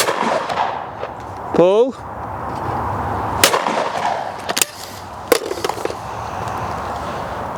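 A Browning Cynergy shotgun fired at clay targets outdoors: three sharp, loud reports spaced a second or so apart, with a shooter calling out once before them.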